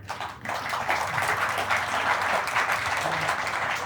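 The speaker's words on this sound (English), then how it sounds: "Applauding again and again." Audience applause during a talk on retaining talent in a competitive market; after a brief quieter start, steady dense clapping rises and continues at even strength, with faint voices underneath.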